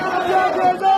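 Protesting crowds in Sudan, a mass of voices shouting and chanting together at a strong, steady level with no single voice standing out.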